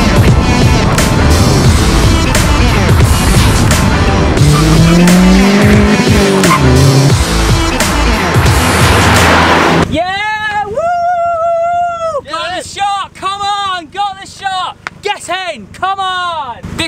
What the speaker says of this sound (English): I'm out with my boy Ross and his nice car